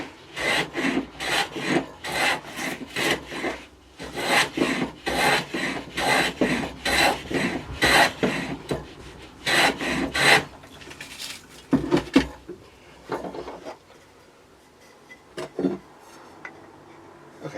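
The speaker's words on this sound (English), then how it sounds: "Just want to take off plate machine planing marks and things." A hand file rasped over a wooden guitar bridge to take off machine planing marks, in a close series of rhythmic scraping strokes that thin out to a few scattered rubs near the end.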